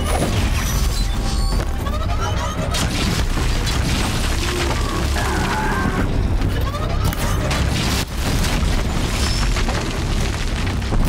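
Fire explosions in the Horizon Zero Dawn video game, a dense, loud stretch of booming blasts and crashing impacts layered over constant rumble, with brief voice moments.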